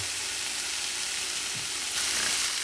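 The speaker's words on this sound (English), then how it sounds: "Now I'm going to add the salmon back into the pan." Salmon pieces dropped back into a hot paella pan, a steady broadband sizzle running throughout with a brief clatter and a slight surge in frying near the end.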